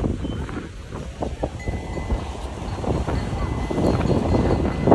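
Strong wind at Kanyakumari, India's southern tip, buffets the microphone in low rumbling gusts that build toward the end, with a voice talking underneath.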